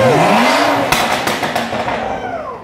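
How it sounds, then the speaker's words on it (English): A loud, heavily modified BMW with its exhaust opened up revs hard nearby, giving a roaring blast that peaks and then slowly tails off. "Wait, give it a little rev, Mitto."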